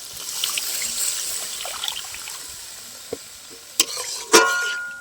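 Water is poured into fried spice masala in a pan for a mustard-poppy seed eggplant dish, giving a soft hissing trickle followed by a few sharp clinks and a brief sizzling burst near the end.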